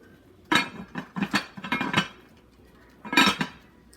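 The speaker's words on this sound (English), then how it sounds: "So now we're going to cover the pot." A lid goes onto a cooking pot of soul food mixed greens, giving a cluster of close metallic clanks and rattles, a short pause, then another sharp clink, with no talk.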